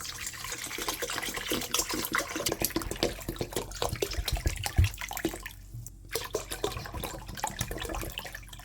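Water pours steadily into a pot as broth for white kimchi is started, a close, continuous splashing and gurgling stream with small fluctuations and a brief dip partway through.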